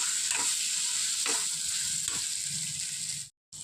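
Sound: ground paste frying and stirring in pan for bitter gourd curry

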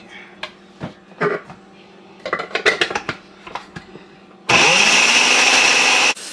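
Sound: blender blending red pepper, scallion and onion

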